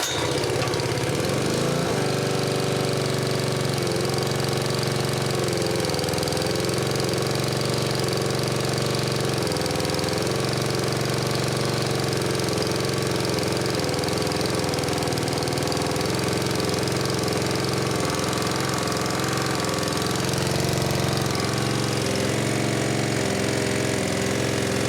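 A Honda GX140 gas engine powers an air compressor, chugging loudly and steadily nearby without a break, with a rough, knocking drone throughout.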